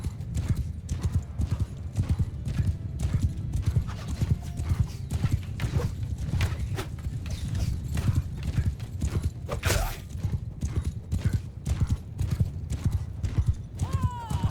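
Cavalry horses galloping in the Mount & Blade 2: Bannerlord battle game, a dense, continuous rumble of many hooves clip-clopping close by, with an occasional whinny rising over the charge and no talk.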